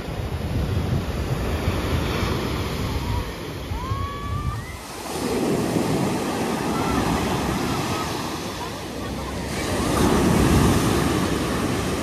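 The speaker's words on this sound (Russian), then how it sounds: "сегодня классно волны." Sea waves breaking on a beach in Alanya, Turkey, a loud continuous surf roar with rising and falling swells, mixed with gusty wind noise on the microphone and faint distant background sounds.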